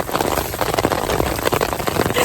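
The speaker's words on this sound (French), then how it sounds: "on est coincés sous un parasol parce qu'il pleut des cordes" Heavy rain pours down on a beach while someone shelters under a parasol: a loud, dense, continuous drumming and hissing of drops, close and unbroken throughout.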